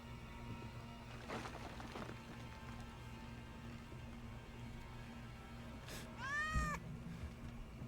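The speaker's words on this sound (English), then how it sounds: "Wait, the cat from before." A cat meows in the Indiana Jones video game, set in the Himalayas, with one short rising-and-falling call standing clear above a steady ambient game backdrop, preceded by faint scattered knocks.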